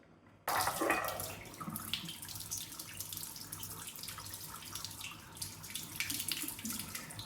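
Tap water pours from a faucet into a drinking water analyzer, switching on abruptly and then running as a steady, close splashing rush.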